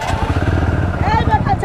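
A motorcycle engine revs up loudly and close at an Independence Day group bike ride at a roadside dhaba, with a crowd talking under the throaty pulsing exhaust.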